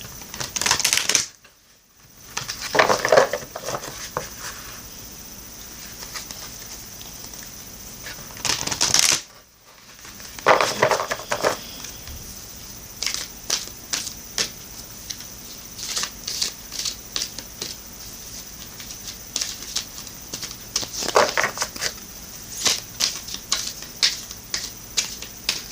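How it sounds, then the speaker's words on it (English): An oracle card deck, the Sacred Rebels Oracle, is shuffled by hand in a long run of crisp riffling and papery flicks, with brief pauses between bursts, close and clear with no talking. "Now I'm going to shuffle the Sacred Rebels Oracle deck."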